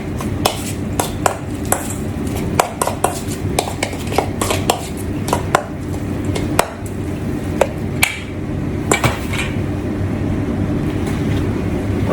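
Metal utensil clinking and scraping in a bowl while lemon juice, salt and pepper are mixed, a steady run of close, sharp clicks over a low background hum.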